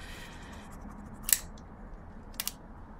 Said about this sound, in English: this paper gasket, which I'm going to cut